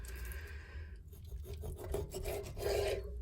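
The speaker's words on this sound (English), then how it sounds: "So I just wanted to show you how I cut the chicken." A knife slices raw chicken into bite-sized pieces, making a short, soft rasping and rubbing scrape of the blade against the board, with no talk.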